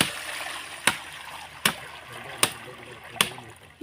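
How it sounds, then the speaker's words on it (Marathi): Water goes into a pot for cooking rice during a festive home meal, arriving in four short splashy bursts at an even pace over a faint steady background. "हे आपण आता भातासाठी ठेवतोय ना हो पाणी"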